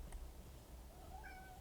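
A pet cat meows indoors, a soft, faint, drawn-out call with a rising then falling tone, heard alone in a quiet room.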